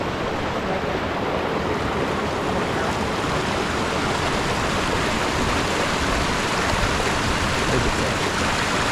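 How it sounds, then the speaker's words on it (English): A small waterfall rushes in a steady, even roar, close and fairly loud, with no pauses and no voices. "That's a beautiful little waterfall right here."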